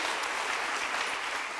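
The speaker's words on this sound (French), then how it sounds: "Vous pouvez l'applaudir une nouvelle fois." Audience applause for an artisan receiving the first trophy at a business awards evening in the Creuse, a dense, steady wash of many hands clapping that fills the whole moment without a break.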